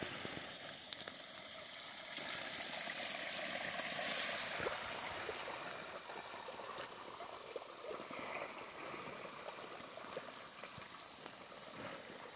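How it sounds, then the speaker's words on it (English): A creek in Jaybird Canyon, part of the Gila watershed in Gila National Forest, flows steadily with a broad rushing and trickling wash that swells briefly and then holds even, with no voices. "This is a creek that flows into the Gila watershed."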